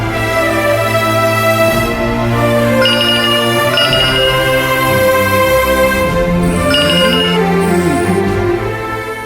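A telephone rings with a loud, melodic electronic ringtone in a Tamil TV serial scene, its repeating tune playing continuously for about nine seconds with no talk over it.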